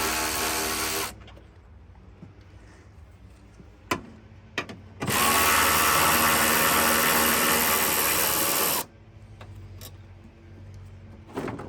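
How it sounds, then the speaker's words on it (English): Power tool or ratchet whirring in loud bursts while bolts come off a Mazda RX-8 front bumper, with a short burst early, a long sustained run in the middle, and quieter clicks and handling noise between. "This is called the insider's ratchet, which is kind of nice. All right, let's go ahead and remove these bolts."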